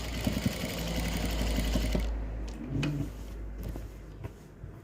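A sewing machine stitches a small box stitch on fabric, running in a fast steady whir for about two seconds, then stopping and restarting in short bursts with clicks, close and moderately loud.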